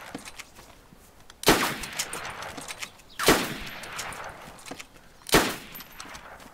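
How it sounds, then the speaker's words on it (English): Three heavy gunshots ring out in DayZ at night, each a sharp, loud blast with a lingering reverberant tail, separated by about two seconds of quieter background noise. "Oh, I heard shots."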